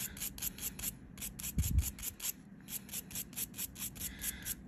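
Gold-coated carbide nail drill bits are sharpened by hand, a quiet rhythmic scraping rub repeating in quick strokes with brief pauses, with a single soft thump near the middle.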